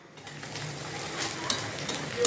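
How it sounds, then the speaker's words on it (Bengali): Masala spice paste fries in a pan with browned onion for a pomfret curry, giving a close, steady sizzle and crackle with light stirring scrapes, no voices. "দিয়ে ভালো করে আমি ভেজে নিচ্ছি যাতে এতে মশলার কাঁচা গন্ধটা চলে যায়"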